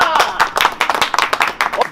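A crowd at a Hindi political rally clapping in quick uneven bursts, sharp and close, while a voice chants over the claps.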